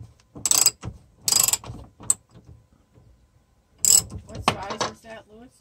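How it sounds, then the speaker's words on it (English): A ratchet turns a 1/2 die set to thread an 11/16 hole, giving several short bursts of rapid clicking with pauses between, close and fairly quiet, with faint talk near the end. "he's going to turn the die and kind of thread the hole"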